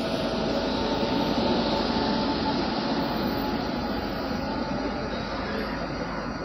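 Passenger train 12508 rolls into Brahmapur railway station, a steady, loud rumble of wheels and carriages that holds evenly throughout.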